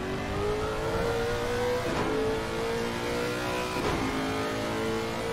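A GT3 race car engine in a Suzuka racing video game roars loudly and steadily, its pitch climbing through gears with brief dips at each upshift, heard alone without commentary.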